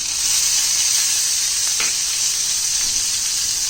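Asafoetida, crushed garlic and crushed green chilies sauté in hot oil over a lowered flame, giving a steady, loud sizzle throughout with a brief crackle near the middle.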